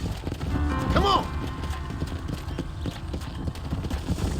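Horse hooves clip-clop in a steady, close rhythm in the video game Red Dead Redemption, with a brief whinny early on and faint speech in the background.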